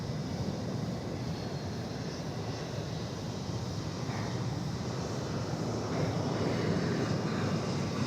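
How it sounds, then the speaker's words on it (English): An Embraer E-Jet airliner arriving from Fort Smith passes at DFW Airport, its broad engine roar steady and fairly loud for the whole stretch, swelling slightly toward the end, with some wind noise and no talking. "So here comes an E-Jet from Fort Smith."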